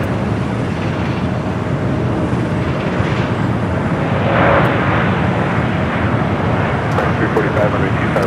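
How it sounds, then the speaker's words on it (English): A two-year-old Delta Air Lines Airbus A321neo arriving from Atlanta onto runway 25 left at Los Angeles airport, a steady broadband jet roar that swells slightly midway, with a voice talking over it throughout. "Delta Airlines Flight 996, a flight coming from Atlanta, Georgia. It's a 2-year-old A321neo is the next arrival on the"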